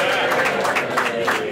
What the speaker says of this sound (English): Give us a cheer if you played 3 games today